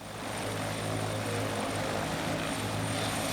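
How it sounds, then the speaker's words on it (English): A helicopter flies near a remote lighthouse, its rotor and engine making a steady, loud broadband drone with a low throbbing hum that swells slightly at the start and then holds constant. "the helicopter's been able to come up in this area to take them out"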